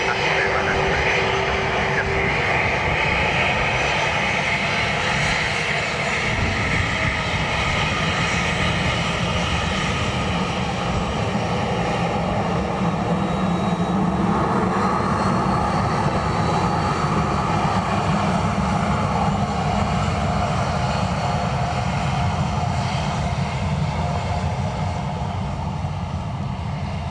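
A Ryanair airliner lands at Dublin Airport, a loud continuous roar of jet engines rising and holding for nearly half a minute, mixed with faint air traffic radio talk.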